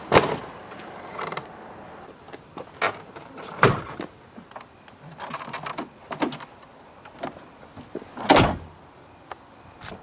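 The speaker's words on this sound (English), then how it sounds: "You simply sit inside it as you normally would and close the door." A car door on a BMW E36 opens and shuts in a few sharp thuds and clunks, with creaks and small mechanical rattles between them in a quiet cabin.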